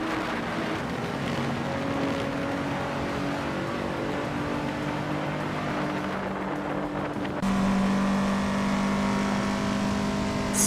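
Race cars in a racing video game, among them a 2014 Hyundai Veloster Turbo, as a steady continuous engine drone with tonal whine that shifts pitch and grows louder partway through.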